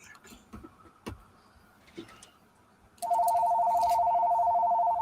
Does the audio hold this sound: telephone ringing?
yes